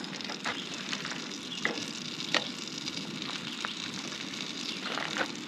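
Bread soaking up butter in a pan over a propane camp stove sizzles steadily with a dense, crackling hiss, punctuated by a few sharper pops and spits, close and continuous with no voices.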